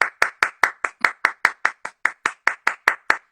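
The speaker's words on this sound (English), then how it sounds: "And I'm just going to take my own applause for all of the actors." Clapping for the actors at the end of Coriolanus during an online watchalong: one person's close, crisp hand claps in an even rhythm, about fifteen in three seconds, with no voices.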